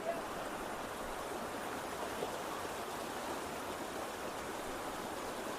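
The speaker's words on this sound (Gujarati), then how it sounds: "જો પાણી જો કેટલું બધું જાય" Water rushing steadily in a strong stream at a riverside shrine crossing, a broad continuous wash of flow close by that stays even throughout, with no voices over it.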